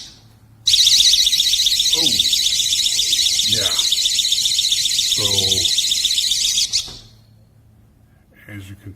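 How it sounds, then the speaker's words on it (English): A GE personal security window and door alarm blares a loud, piercing continuous electronic shriek for about six seconds, with a person speaking briefly underneath before it cuts off. "as you can tell, that is a pretty piercing alarm there"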